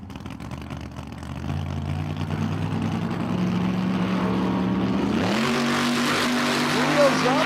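Drag strip launch of a 1955 Chevy gasser racing a '57: a loud engine drone builds steadily, then a sharp rev surge as the car pulls away, the pitch climbing through gear changes, heard close and alone.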